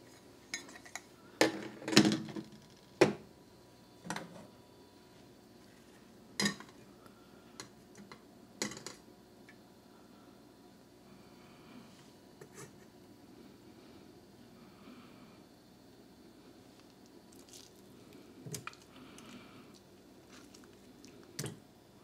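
A ration main meal is emptied into a rinsed bowl: sparse, soft squishing plops and light clinks of a pouch and utensil against the bowl, close up and quiet, with long pauses between.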